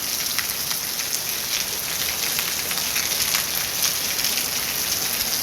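Heavy rain pours down in Coorg, Madikeri, a dense, loud and continuous hiss of drops drumming on surfaces that stays steady throughout with no voices.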